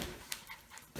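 A dog pants in quick, soft breaths, close by and fairly faint, during play-based training, with a brief louder burst at the end.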